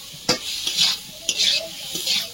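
Raw tomato with spices frying in a pan for a sea fish curry, three quick spatula scrapes against the pan over a steady, close sizzle.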